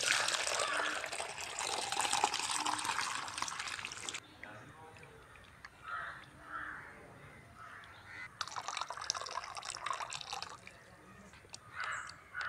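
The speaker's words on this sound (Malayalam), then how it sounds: "അപ്പോൾ നമുക്ക് നമ്മുടെ ഈ ഹൈഡ്രജൻ പെറോക്സൈഡ് ഒരു കപ്പ് ഒരു ലിറ്റർ വെള്ളം എന്നുള്ള രീതിയിൽ നമ്മളിത് ചെടിക്ക് ഒഴിച്ചു കൊടുത്തു" Diluted hydrogen peroxide solution poured from a cup onto the roots of an eggplant plant, two bursts of steady splashing pouring, close, separated by quieter moments with faint talk and birds.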